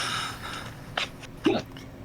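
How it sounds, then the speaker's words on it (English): A person hiccuping twice, short sharp throaty gulps about half a second apart, close and fairly quiet against a soft background. "Hiccups, Jesus."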